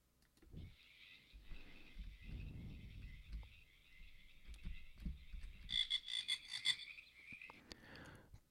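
Frogs croak in a pond in a sustained, buzzy chorus, steady for several seconds and swelling into a louder rattling burst near the end, with low thumps and rustles underneath and no voices.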